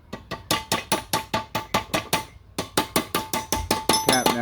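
A hammer taps down the exhaust pipe on a 1985 Dodge D150 in a rapid, steady series of about twenty sharp metallic strikes, close and ringing, without pauses.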